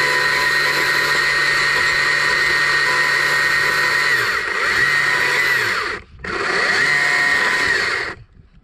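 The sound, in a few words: chainsaw with dime tip bar carving a wooden bear's eyes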